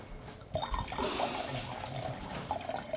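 French wine poured into glasses at home, a gurgling liquid stream starting abruptly after a quiet moment and running steadily for a couple of seconds, close and fairly soft.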